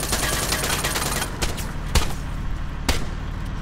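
Gunfire in the military shooter ARMA 3 Exile on the Taviana map: a dense, loud burst of rapid automatic fire at first, then two isolated sharp shots spaced about a second apart over a steady background rumble.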